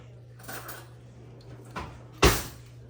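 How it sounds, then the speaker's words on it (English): A kitchen drawer is pulled open to fetch a fork while baking a cherry pie, giving a few soft wooden slides and knocks, then one louder clattering thud near the end, close by against a low steady hum. "Mel, can you get me a fork from that drawer?"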